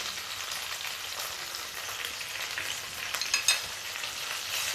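Spice masala with red chilli, garam masala, turmeric and salt, loosened with a little water, frying in a pan for jackfruit curry; a steady close sizzle with a few brief louder crackles, no voices.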